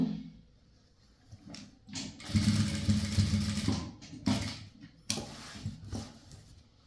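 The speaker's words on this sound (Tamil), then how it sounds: "அந்த பக்கம் எப்படி மடிச்சு தைச்சோமோ அதே மாதிரி தான் இங்கே தைக்கணும்." Sewing machine stitching the side seam of chudithar pants, a steady whirring run of stitches with softer starts and stops around it, close by and moderately quiet, no voice.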